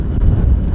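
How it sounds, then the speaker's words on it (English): Loud, steady wind near the ocean buffeting a microphone, a low rumbling roar that fills the whole moment with no other sounds. "Sorry for the wind."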